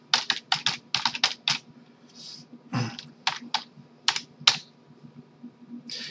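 A password is typed on a computer keyboard in quick bursts of close, crisp key clicks separated by short pauses, with no talk.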